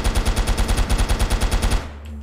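A rapid, evenly spaced burst of about fifteen loud gunshots from a video game gun in Stickochet cuts off abruptly, leaving a faint quiet tail.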